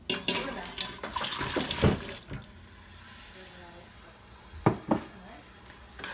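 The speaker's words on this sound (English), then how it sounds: "now we're going to add the hot water back in" Hot water is poured into a pot in a kitchen while cooking plant-based alfredo. Running, splashing water is followed by clinks of cookware and two sharper knocks near the end.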